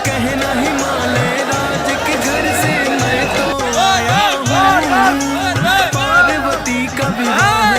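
A dense crowd murmurs and chatters at the Kashi Vishwanath temple in Varanasi during heavy rain. The babble is loud and continuous, with a singing voice and tonal music layered over it.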